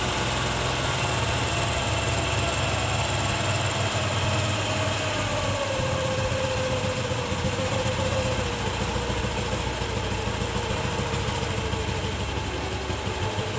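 A TVS Jupiter scooter engine idles steadily at low RPM during carburetor tuning, a continuous close, fairly loud drone with a slowly shifting tone and no talk over it.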